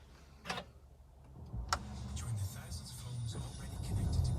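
A Mercedes CLA180d diesel engine cranks and starts after a couple of brief clicks, then settles into a low, steady idle that gradually grows louder, heard close up from inside the car.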